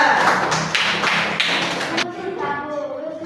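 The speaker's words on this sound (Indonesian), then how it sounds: "tepuk tangan untuk kelompok 3" A classroom of pupils claps together for a student group after a discussion presentation, a dense burst of hand claps that fades out after about two seconds, followed by voices talking.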